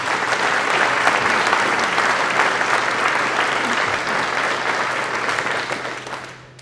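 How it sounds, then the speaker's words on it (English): Sustained audience applause fills the hall at the Kansas Master Teacher awards ceremony, with dense, steady clapping that fades gradually toward the end. "So let's have a round of applause for Bank of America."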